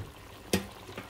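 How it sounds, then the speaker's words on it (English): Hot water splashes into a pot of sauteed goat meat for Jamaican-style curried goat, a short sharp pour followed by a faint second splash over a low background hum. "I want to add some hot water on it."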